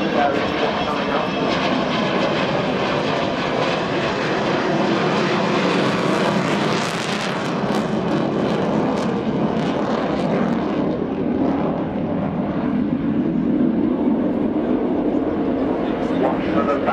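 The Avro Vulcan XH558 bomber makes a slow fly past at Farnborough Airshow, its engines a loud, continuous roar that swells and shifts in tone as it passes. A commentator talks over it.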